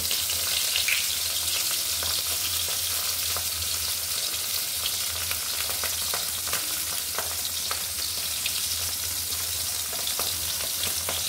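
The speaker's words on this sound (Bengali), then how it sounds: "এবার একটু ফোড়ন দেব, শুকনো লঙ্কা আর জিরে।" Dried red chillies and cumin seeds sizzle in hot ghee for a tempering poured over khichuri, a steady close crackling fry with occasional pops throughout.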